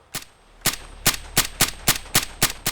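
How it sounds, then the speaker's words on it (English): A suppressed Springfield Armory M1A rifle in Fallout 4 fires eight sharp, muffled shots in quick succession, close and evenly paced after a short first gap, with no voices. "I'm trying to tap the trigger as fast as I can"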